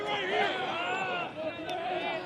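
Hyannis Harbor Hawks players in the dugout and bullpen cheer during a summer collegiate baseball game against Bourne, with several overlapping voices shouting and calling out steadily from start to finish.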